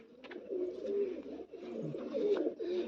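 Pigeons coo softly and continuously, low rolling throaty calls overlapping in two long phrases, fairly quiet and close.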